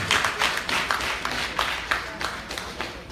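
Applause from a banquet crowd for officers elect at a convention dinner: fairly close, moderately loud clapping in uneven waves over a few seconds, with no talking.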